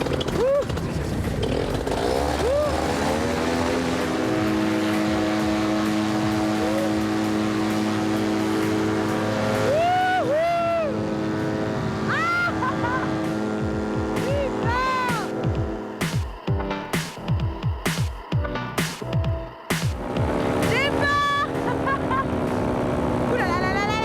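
A paramotor engine drones loudly and steadily during takeoff, its buzzing pitch shifting and wavering, with excited voices talking and exclaiming over it and wind buffeting in the later seconds.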